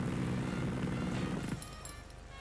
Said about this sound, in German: Hauen Sie ab mit dem Hubschrauber.